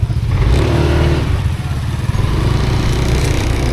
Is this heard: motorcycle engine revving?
yes